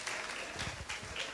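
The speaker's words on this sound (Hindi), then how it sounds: "आइए ताली बजाएं और परमेश्वर को महिमा करें" Congregation clapping together during a Hindi-language church worship service, a steady, dense patter of hands filling the room at moderate level, with no voices over it.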